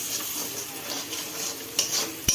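Soft steady sizzling of salted spices with turmeric frying in oil in a pan for tadka dal, with a few light metallic clinks of a utensil near the end.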